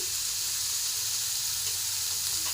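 Tomato and spice masala with turmeric, chili and black pepper fries in oil for a bottle gourd kofta curry, giving a steady, close, even sizzle and hiss with no talking.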